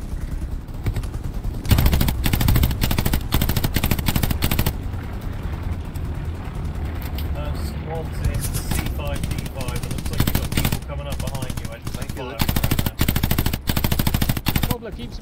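Thompson submachine gun bursts in the World War II shooter game Hell Let Loose, loud repeated automatic fire with other gunfire and battle noise, alongside brief voices calling out.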